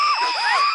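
A woman named Ragini screams in a tense horror-drama scene, a single sustained, wavering high-pitched shriek that is loud and close for under a second.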